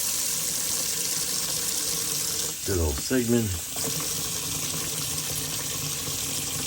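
Tap water runs steadily into a bathroom sink as a constant hiss, with someone speaking briefly over it midway.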